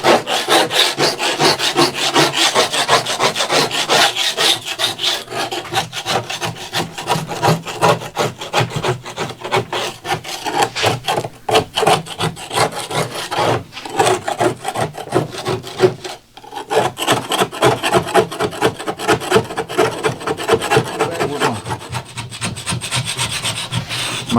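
A power sander runs steadily over a fiberglass boat lid, producing a loud, continuous rough rasping and rubbing with small fluctuations and no talking.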